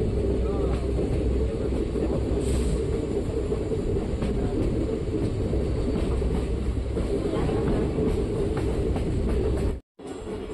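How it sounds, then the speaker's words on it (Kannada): A train arrives at Sakleshpur railway station on a monsoon journey, giving a loud, steady rumble of wheels and carriages heard from inside. The noise holds constant and cuts out briefly near the end. "ನಮ್ಮ ಟ್ರೈನ್ ಈಗ ಸಕಲೇಶ್ಪುರ ರೈಲ್ವೆ ಸ್ಟೇಷನಿಗೆ ಬಂದಿದೆ."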